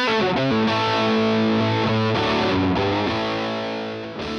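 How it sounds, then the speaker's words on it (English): Electric guitar played through a VOX Straight 6 dynamic overdrive pedal with a bright switch, giving a British rock tone: a loud, steady run of distorted chords and notes that sustains, then eases off slightly near the end, with no voices. "The straight 6 is a dynamic overdrive that includes a bright switch for a wide range of British rock tones."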